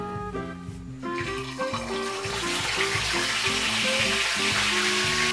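Salted, freshly caught fish frying in a pan gives a steady, building sizzle that grows louder and brighter over the seconds, sitting beneath prominent background music.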